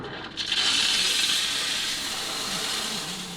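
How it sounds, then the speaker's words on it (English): The electronic steam wand of a La Marzocco Leva X espresso machine lets out a loud, continuous hiss that starts abruptly and holds steady for a few seconds, close up, with no one speaking. "the steam wand or the steam valve is an electronic steam valve"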